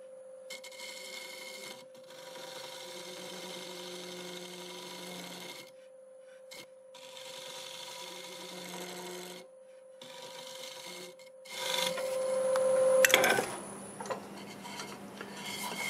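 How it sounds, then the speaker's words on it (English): Negative rake scraper smoothing a segmented wood bowl on a lathe at about 750 RPM, a steady scraping rasp over motor hum in bursts with brief pauses, growing louder and harsher near the end. "use a negative rake scraper to blend this corner in and smooth this out"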